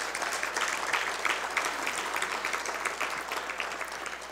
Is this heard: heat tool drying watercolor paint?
no